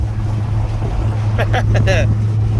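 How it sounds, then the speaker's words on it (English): A 1989 C4 Corvette, running well after a smog pump fit, holds a steady low engine drone throughout, mixed with wind rushing past the microphone and a person talking over it. "But the car sounds great. She is running perfect."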